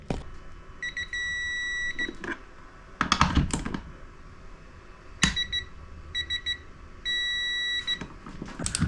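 An electronic torque tool beeps in steady repeated tones while tightening busbar bolts, with bursts of mechanical clatter and ratcheting noise in between.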